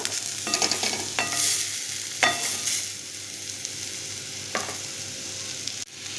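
Onion fries in oil with a loud, close, continuous sizzle, broken by a few sharp scrapes of a spatula pushing it aside in the pan.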